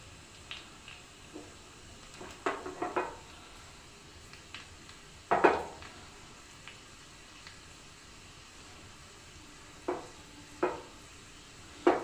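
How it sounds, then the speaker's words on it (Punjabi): Garlic and ajwain cook in oil over a low gas flame, a quiet soft sizzle broken by several sharp scraping stirs and clinks of a utensil against the pan. "ਆਪਾਂ ਲਸਣ ਤੇ ਅਜਵਾਇਣ ਦੋਨੇ ਚੀਜ਼ਾਂ ਪਕਾ ਲਗੇ ਜੀ ਤੇਲ ਦੇ ਵਿੱਚ"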